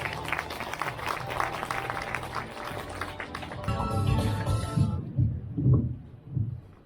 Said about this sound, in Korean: 큰 박수 한번 부탁드리겠습니다